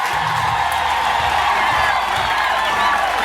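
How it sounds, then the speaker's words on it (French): A congregation at a priests' ordination in Nyarambe bursts into sustained clapping, cheers and high whoops, all dense and steady throughout. "Applaudissons."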